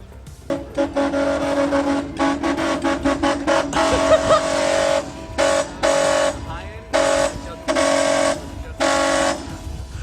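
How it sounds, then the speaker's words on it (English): A brassy, buzzing old car horn on a 1986 Honda Civic honks repeatedly, first in quick short toots, then in longer blasts with gaps, close and loud. "you want to hear Sage's jalop ass horn"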